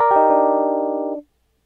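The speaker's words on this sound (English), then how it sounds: "I've got an electric instrument playing a chord" A single sustained chord on an electric instrument, struck once after a couple of quick attacks, ringing dry with no echo before cutting off sharply after about a second.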